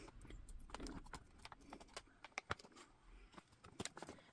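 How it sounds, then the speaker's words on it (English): Scissors snip and rustle through a resealable plastic bag of jigsaw puzzle pieces, a string of quiet close crinkles and small sharp clicks at an irregular pace, with no talking. "the pieces come in a resealable plastic bag. And this time I've remembered the scissors. Let's just cut this open."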